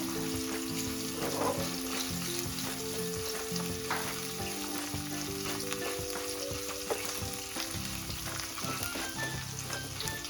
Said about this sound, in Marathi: ही थोडीशी जी उडदाची डाळ टाकलेली आहे ही थोडीशी क्रिस्पी होऊ द्यायची आपल्याला